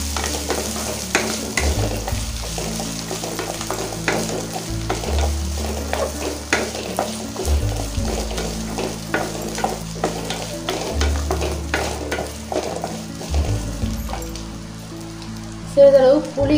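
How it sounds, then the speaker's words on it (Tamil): Finely chopped coconut, about a quarter, sautés in a pan for kollu thuvaiyal, a continuous close sizzle with frequent stirring scrapes over a low droning background, with a louder clatter near the end. "2 நிமிஷம் கூட இதையும் நல்லா வதக்கிக்காங்க"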